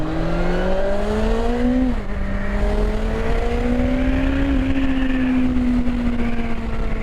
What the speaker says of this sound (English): It may be a stock exhaust, but she makes a nice sound. Nice little growl.